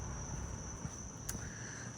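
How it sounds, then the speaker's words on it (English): Crickets chirp in a steady, high-pitched drone outdoors in New Brighton, Staten Island, with a faint distant background hum. "I see a lot of crickets chirping there."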